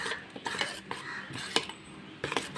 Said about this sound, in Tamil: நல்லா கலக்கியாச்சு